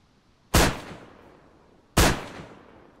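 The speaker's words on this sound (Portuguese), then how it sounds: "Tá um tiro aí na estrutura embaixo." Two sharp, loud gunshots ring out in the video game DayZ, about a second and a half apart, each with a sharp crack and a fading echo tail.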